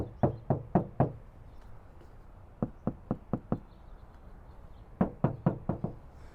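Knuckles rapping on the sound-deadened front passenger door of a 2025 Toyota Land Cruiser, three quick bursts of four or five solid, dull knocks each, close and clear with quiet gaps between.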